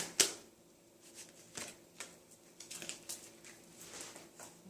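Soft, quick riffling and flicking as a deck of cards is shuffled close by, with a sharp snap at the start and then irregular light taps and patters in a quiet room.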